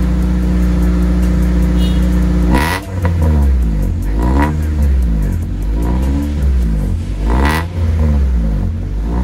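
A JTCC race car engine idles with a low rumble, then revs up sharply several times, each blip rising and falling in pitch, loud and close.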